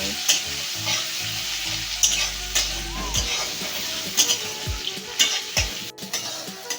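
Chopped tomato and green chilli fry in hot oil, giving a close, steady sizzle with intermittent stirring scrapes and low knocks of the utensil against the pan, no speech.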